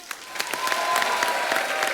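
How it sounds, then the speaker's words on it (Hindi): A studio audience at a television comedy show, The Kapil Sharma Show, bursts into loud, dense applause welcoming a guest, continuous clapping close up for a couple of seconds. "आप सबकी जोरदार तालियों के बीच प्लीज वेलकम"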